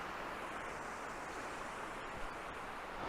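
Cedar Run, a mountain stream tumbling over a series of rock cascades among trees in Shenandoah National Park, gives a steady, broad rushing wash that stays constant throughout with no talking.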